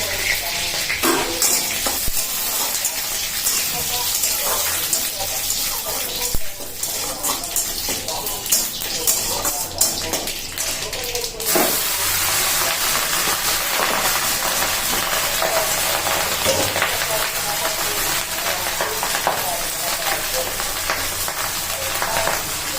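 Cooked rice tossed into a hot pan with mustard seeds for curry leaf rice, a loud continuous hissing fry with stirring scrapes and clatter throughout, close by, with no speech.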